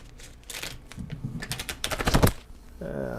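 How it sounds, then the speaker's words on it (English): Tape peeling off a guitar neck gives a series of close, crackly tearing and ripping bursts that build in intensity, followed by a brief low voice at the end. "I'm just going to peel this tape off of here."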